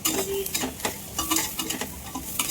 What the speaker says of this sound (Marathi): मस्त सोयाबीन पण परतून घेते